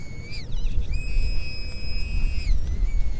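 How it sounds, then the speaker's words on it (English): A metal detector pinpointer's high electronic whine rises and falls, then holds a steady piercing tone before dropping away, over low rumbling background noise. "It's just screaming off on the pinpointer."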